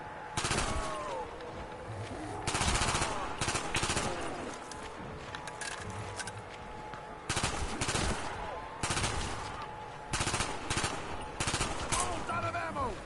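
MPL submachine gun in Call of Duty firing repeated sharp bursts, some short and some sustained, with pauses between them, loud and close, against a steady game backdrop with faint talk.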